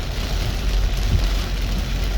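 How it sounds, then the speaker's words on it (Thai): Heavy rain pours steadily onto a rubber plantation, a dense, unbroken roar of falling water with a low rumble underneath, loud and close throughout. "ตอนนี้ก็อยู่ในสวนยางไม่ได้แล้วฝนตกหนักนะครับต้องหนีออกมาข้างนอกนะครับ"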